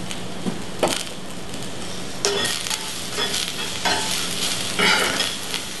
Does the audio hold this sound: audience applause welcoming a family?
no